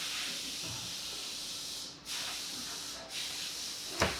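Steady hissing water spray from a teardrop camper's spray port, running continuously, briefly cutting out twice before resuming, with a small knock near the end.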